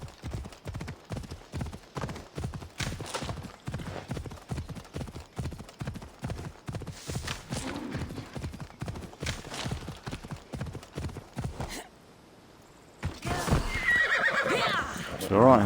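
Horse hooves clip-clop in a quick, steady rhythm with a horse neighing in the video game Assassin's Creed Odyssey, close and continuous, then a short lull before louder movement resumes.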